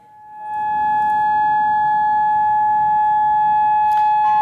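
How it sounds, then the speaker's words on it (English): A steady, piercing civil defense siren sounding the all clear in Beersheba, Israel, holds a constant high tone, sounding continuously and loudly after a quick rise at the start, with no voices. "Well, Malin, in the background, you can hear that ear-piercing siren"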